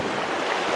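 Floodwater from the Skookumchuck River rushing around a house on Pearl Street in Centralia, Washington, a steady broadband roar with wind noise, brief and loud.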